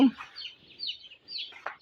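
Young broiler chicks peep and cheep in short, high bursts on a farm, a scattered chorus of chirps at moderate distance.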